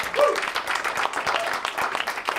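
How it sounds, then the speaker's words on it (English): A crowd applauds with steady, dense clapping that continues throughout, moderately loud and without talk. "last applause for Serge."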